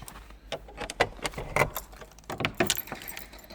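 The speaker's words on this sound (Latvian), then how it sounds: "Pirmā lieta ir atslēgt durvis." Keys jangle and rattle close by in a few uneven bursts as a door is unlocked, with light metallic clinks and a faint click.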